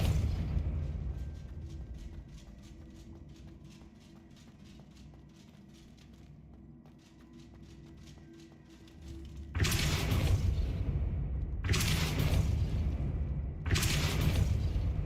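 Depulso spell effects in Hogwarts Legacy, three loud, broad whooshing bursts in quick succession after a quieter stretch of rhythmic ambient clatter, with no voice over them.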